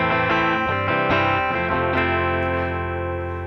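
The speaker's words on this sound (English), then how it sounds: "So position 1A is a Fender Tele clean sound, which we will hear now." An electric guitar, a Fender Acoustasonic Player Telecaster on its Tele clean setting, plays a quick run of clean, ringing notes and chords, ending on a sustained note that slowly fades.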